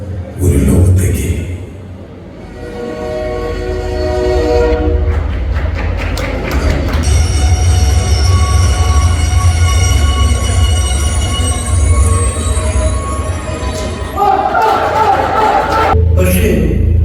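A train rolls past with a loud, sustained rumble and rhythmic clatter of wheels, building over several seconds and holding steady, with a voice speaking over it near the start and end.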